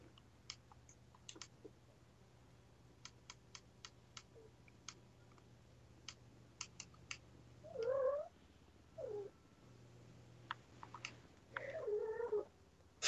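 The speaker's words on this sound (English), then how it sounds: "I know, I hear meow." A cat meows inside the GTA 5 video game, giving a few short, moderately loud calls spaced several seconds apart, heard over faint clicks and a low game hum with no talk.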